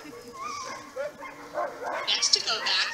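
A sled dog in Denali National Park tries to howl, giving short whining yips and wavering cries that rise into a thin, strained howl, close by and fairly quiet.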